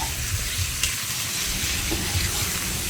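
Food sautés in a pan over a fire in the forest, a steady close sizzle with soft stirring scrapes and occasional pops.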